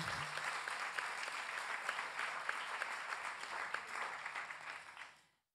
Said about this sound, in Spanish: un aplauso para Ma.